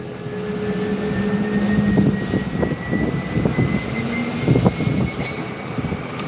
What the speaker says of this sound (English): TUI Max off to Hanover, Ken.